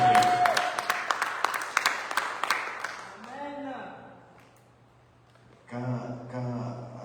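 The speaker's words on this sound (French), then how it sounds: "Non, nous acclamons encore." Church congregation clapping during a worship service, a loud burst of applause for about three seconds that fades out, followed by a voice speaking.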